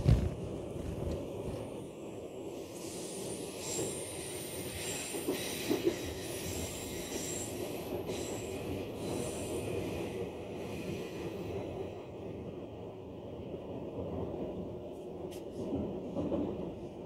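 A mountain train runs on rails with a continuous low rumble and rolling clatter, with wheel squeal and metallic rattling rising over the steady noise, heard from inside at a moderate level.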